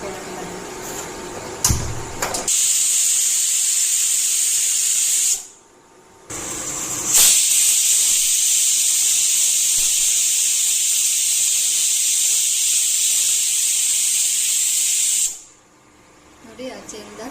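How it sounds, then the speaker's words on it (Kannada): A pressure cooker whistle shrieks with hissing steam in a kitchen while Mangalore-style avalakki breakfast is being cooked, two long loud sustained blasts with a short pause between them, steady and close. "ಆಚೆಯಿಂದ ಕುಕ್ಕರ್ ವಿಷಲ್ ಆಗ್ತಾ ಇದೆ"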